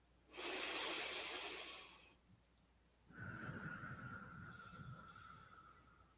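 A slow, deep inhale during a guided meditation, heard up close and alone as a steady airy rush, followed after a short pause by a softer, longer exhale carrying a faint whistle.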